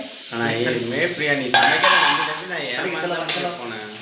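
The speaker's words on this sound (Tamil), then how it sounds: "உங்கள் மாமா மட்டனுக்கு வறுத்துட்டு இருக்கிறாரு பாரு" Coriander seeds, dried chillies and cumin dry-roasting for mutton curry in a home kitchen, a steady close sizzle and rattle with stirring scrapes, under continuous chatter from a voice.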